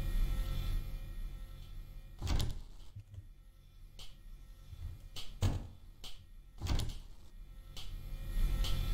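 A door opening in the video game Baldi's Basics Plus, heard as several short, loud thuds and sliding whooshes spaced a second or two apart over a steady game background hum.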